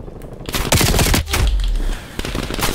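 Loud close-range gunfire in Call of Duty: Black Ops Cold War, rapid automatic shots crackling almost without pause, broken by a brief deep thud partway through.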